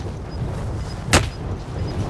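A single sharp sniper rifle shot rings out midway in a Call of Duty: Modern Warfare match, brief and fairly distant over a low rumbling game ambience.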